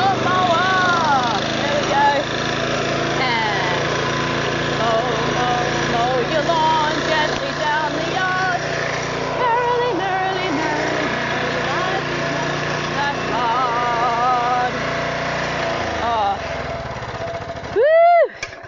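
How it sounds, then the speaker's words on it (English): Lawn mower engine starting and running with a steady, loud, buzzing drone throughout, overlaid with talking, before a brief sharp burst near the end. "Now, first of all, I've got to start my mower."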